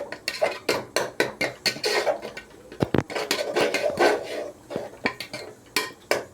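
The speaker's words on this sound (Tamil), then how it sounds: "எல்லாம் போட்டு கொஞ்சம் ஒரு கிளறிக்கலாம்" A metal spoon stirs tomato gravy in a cooking pot, giving repeated sharp scraping clinks against the pot in an irregular rhythm, close and fairly loud, with no talking.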